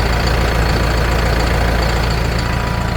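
A 2010 tractor engine idles close by, a steady, loud low rumble with a continuous knocking chatter and no break across the span, with no voices.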